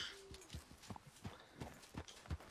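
A Tennessee Walker horse in Red Dead Redemption II clip-clops along in a steady walking rhythm, each hoofbeat soft and distinct, with faint background ambience between the steps.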